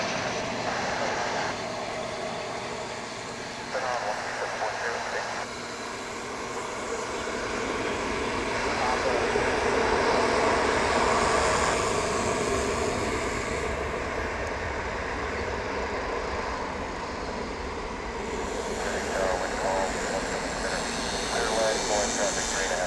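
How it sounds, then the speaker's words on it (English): An American Airlines Boeing 737-800 arriving from Albuquerque at Dallas/Fort Worth International Airport gives a loud, broad jet roar that swells and fades over about twenty seconds, with someone commentating over it. "coming in from the northern sky is American Flight 2335, arriving now from Albuquerque, New Mexico"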